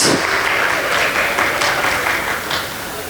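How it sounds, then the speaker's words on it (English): Loud, dense applause from a gala audience, a continuous wash of many hands clapping that fades slightly toward the end. "Let's give a round of applause."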